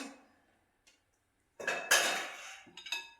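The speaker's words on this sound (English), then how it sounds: "we stir that in to combine" Potatoes stirred into Korean pancake batter in a bowl, with a few clinks and scrapes of a utensil against the dish after a quiet start.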